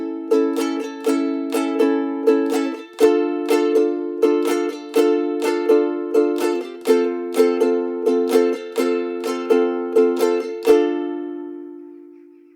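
A ukulele strums a lively calypso pattern over the intro chords of a song, with crisp, evenly repeating down and up strokes. The playing is close and bright, then settles on a final ringing chord.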